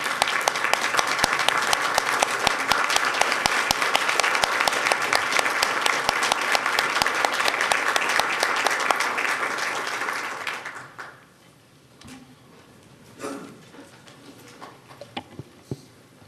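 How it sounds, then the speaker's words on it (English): City council meeting audience applauding the local fire department, loud sustained clapping from a room full of people for about ten seconds, then fading out into quiet room noise with a few scattered claps and shuffles. "let's recognize our own fire department tonight with a hand clap"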